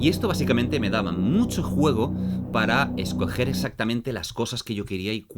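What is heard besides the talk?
No distinct noise like a dog, phone or traffic.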